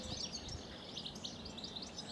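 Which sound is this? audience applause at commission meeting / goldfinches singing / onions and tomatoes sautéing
goldfinches singing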